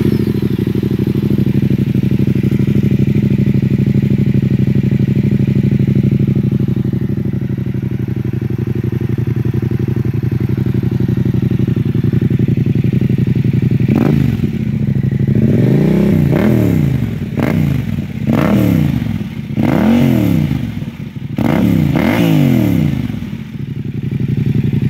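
A 2021 Yamaha Tenere 700 with an aftermarket exhaust, quiet core removed, idles with a deep steady rumble, then takes a series of sharp throttle blips that rise and fall in pitch, close and loud.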